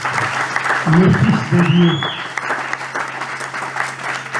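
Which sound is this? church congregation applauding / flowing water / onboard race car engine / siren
church congregation applauding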